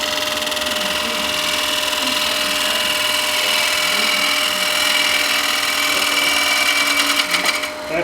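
A half-inch 60-degree bowl gouge takes a finish cut inside a spinning bowl on a wood lathe, giving a steady, loud hiss and scraping whine under the motor hum that holds throughout and roughens near the end.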